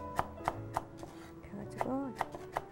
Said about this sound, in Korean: 그냥 썰어주세요. 곱게 이렇게. 최대한 얇게.